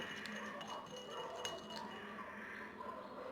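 Lemon juice and honey stirred together in a small bowl, quiet clinks and scrapes of a spoon against the sides at an irregular rhythm, close and faint.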